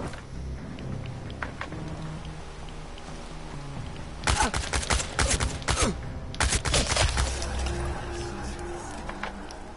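Gunfire in the video game Chernobylite: two loud bursts of rapid shots, each lasting about a second, break a quieter ambient background.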